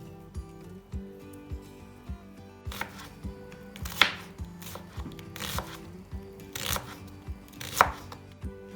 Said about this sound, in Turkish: Patatesimi de çırptım, doğradım.